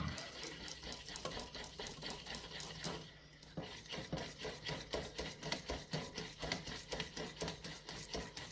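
Béchamel sauce being stirred in a pan, a quiet, steady scraping and swishing with a rhythmic ticking texture that continues throughout, broken only by a brief pause.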